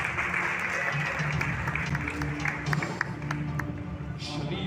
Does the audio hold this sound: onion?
no